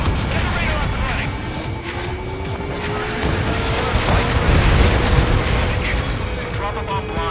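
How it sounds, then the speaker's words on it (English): Bombs explode in the combat flight video game Ace Combat 7: Skies Unknown, with heavy rumbling booms swelling over a constant roar, under radio voices talking. "Drop a bomb blind to hit something."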